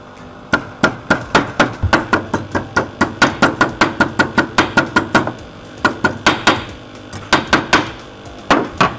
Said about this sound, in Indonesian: besi diluruskan, ya, dengan cara dipukul menggunakan palu